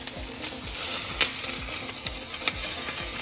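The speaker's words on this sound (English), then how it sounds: "Smash burger. Why don't do smash burgers? You actually have to smash them" Smash burger patties frying on a hot surface, a continuous close sizzle with regular scraping or pressing knocks every half second.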